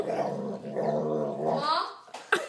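A dog growls low and steadily at close range, then gives a couple of short sharp barks near the end.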